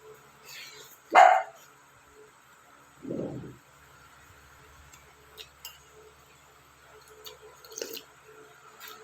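A pet dog indoors gives a couple of sharp barks followed by a lower muffled woof, spaced apart with quiet gaps and faint background clatter between.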